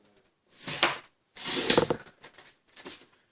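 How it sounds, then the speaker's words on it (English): A paper trimmer slices card for a handmade Mother's Day card in three close, rasping passes, each a short burst of gritty clicking as the blade runs along the track, separated by brief silences. "grab my trimmer. I'm going to take that down 1 inch."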